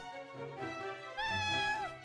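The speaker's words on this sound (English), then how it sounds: "Hold on, let me grab the cat." A house cat meowing, two drawn-out tonal meows in quick succession, the second louder and higher, heard close and clear with no talk.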